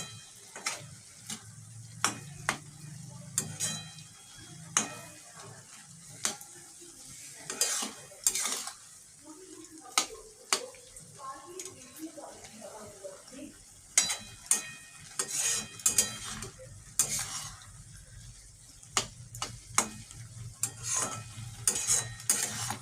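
Sugar is stirred into carrot halwa in a pan, heard as repeated scraping and knocking of a spoon against metal in an uneven rhythm over a low, soft sizzle, close by and with no voices.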